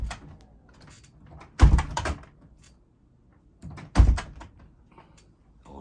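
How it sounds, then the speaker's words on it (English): A door is shut in a camping setting: two sharp, solid thuds land a couple of seconds apart, with quiet shuffling and handling noise between them. "let me just shut this door"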